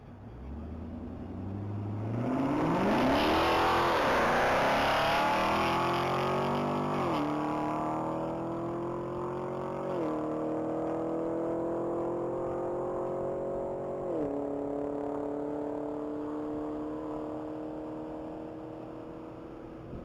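A 2018 Chevrolet Camaro SS accelerates hard on a Texas Mile top speed run, its engine climbing in pitch through several distinct gear shifts, loud at first and gradually fading as the car pulls away into the distance.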